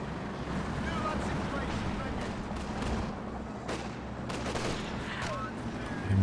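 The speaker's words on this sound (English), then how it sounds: "AT gun maybe, or machine gun?" Battlefield combat in the Company of Heroes 2 strategy game, with anti-tank gun or machine gun fire crackling in dense, continuous bursts over a constant roar of battle, under a commentator's voice.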